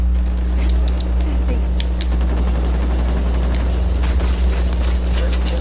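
Sustained automatic gunfire from Uncharted 4 multiplayer rattles in steady repeated shots over a low mechanical hum, with voices talking beneath.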